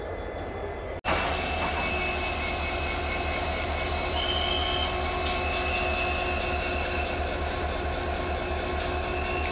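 A train with a single engine rumbles steadily and loudly at Beed railway station during a CRS safety inspection, a continuous close rolling drone with faint squeal tones as a crowd gathers to watch.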